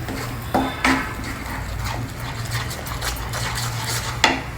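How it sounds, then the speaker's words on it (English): Chole masala spices and chana are stirred in a cooking pan for a North Indian vegetarian lunch, giving a soft continuous sizzle under a few distinct metallic scrapes and clinks of a spoon against the pan, close up with no talking. "Mix all the masalas well together so that they are well cooked."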